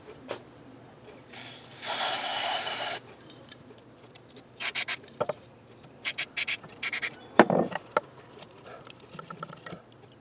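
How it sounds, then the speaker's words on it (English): A pressurized cleaner spray hisses in a long burst into guitar electronics, followed by several shorter quick squirts, interspersed with faint handling and scraping noises close by. "So let's just spray all this out real good."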